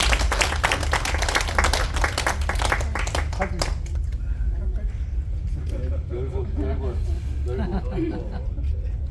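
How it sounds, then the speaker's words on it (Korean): An audience at a general assembly aboard an MSC cruise ship claps briskly for a few seconds. The clapping then fades out and voices and general chatter take over. "박수 한번 해주시기 바랍니다."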